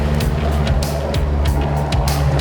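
A 2002 Toyota Hilux off-roader drives with a loud, steady engine drone and road rumble heard close up. Faint rhythmic thumps run through it over the few seconds.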